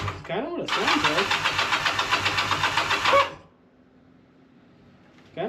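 A car engine that has apparently run out of fuel sputters with a steady pulsing roughness for about three seconds, then cuts off into near quiet before a short burst returns.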